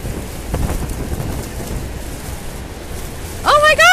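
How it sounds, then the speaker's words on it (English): Strong wind buffets the microphone on a Niagara Falls cruise boat nearing the Horseshoe, a constant low rumbling roar, with a rising whistle-like tone breaking in near the end. "You can see how much windier it is as we get into the Horseshoe."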